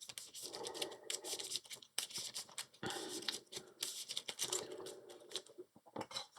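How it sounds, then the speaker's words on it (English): An Arkham Horror LCG encounter deck of cards being shuffled by hand, with several quick riffling bursts close up, separated by short pauses. "so I'll give it a quick shuffle"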